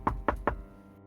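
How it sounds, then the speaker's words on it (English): Three quick knocks on a door during a Dungeons & Dragons 5e tabletop session, evenly spaced and fairly close, then silence. "if you knock on Hakka's room, I assume"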